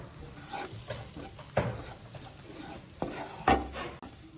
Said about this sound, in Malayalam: ഇനി മൈദ ബട്ടറിലേക്ക് നല്ലോണം യോജിപ്പിച്ചെടുക്കാം